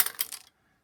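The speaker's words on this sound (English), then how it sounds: "Okay, let's roll dice." Dice rolled for an APBA tabletop football game: a short bright rattle of a few quick clicks and taps lasting under half a second, close and clear, then silence.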